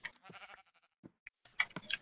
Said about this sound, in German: Ein Schaf, endlich.